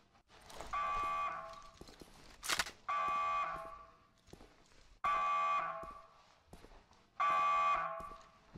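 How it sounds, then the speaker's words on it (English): Alarm blaring in the WWII tactical shooter Hidden & Dangerous 2, four loud sustained bursts of roughly a second each with short gaps between them, with a sharp gunshot-like crack between the first two. "Switch this bloody alarm off."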